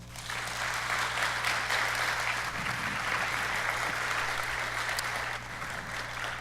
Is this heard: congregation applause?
yes